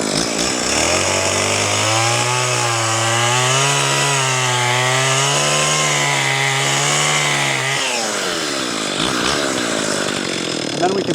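A chainsaw cuts through a fallen tree being bucked into firewood in the woods, its engine holding a loud, steady whine through a long continuous cut before dropping away near the end.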